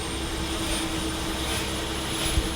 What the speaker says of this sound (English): This helicopter, the BK-117,